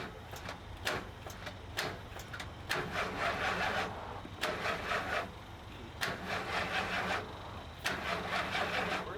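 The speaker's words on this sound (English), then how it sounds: "Now it sounds like maybe the starter's going out." An RV van engine cranks over repeatedly in bursts, a grinding, rasping whir from a failing starter that stops and restarts several times without catching, close and fairly loud.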